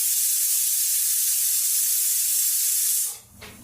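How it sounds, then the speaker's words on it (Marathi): A pressure cooker cooking whole masoor lentil pulao over medium gas lets off a loud, continuous whistle-hiss of escaping steam. It holds steady for about three seconds, then cuts off abruptly, leaving a quieter low rumble. "मध्यम गॅसच्या आचेवरती आपण ह्याला 2 शिट्ट्या काढून घेतोय"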